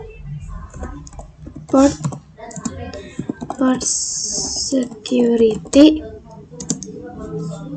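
Computer keyboard keys clatter in short bursts of typing while a man explains switch port security configuration commands, with his voice running over the clicks throughout.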